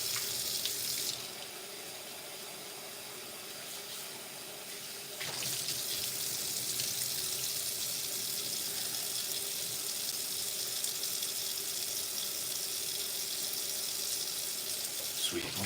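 Tap water runs into a sink while beans are rinsed in a rice rinser, a steady close hiss that softens briefly then gushes strongly again and continues to the end.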